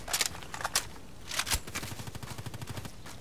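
AK-105 assault rifle gunfire in the online shooter Contract Wars: a few scattered sharp shots, then a fast, even automatic burst toward the end, fairly quiet.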